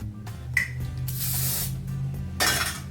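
Two bursts of hairspray hiss onto a wig, one longer and one brief, close to the mic over a low steady hum.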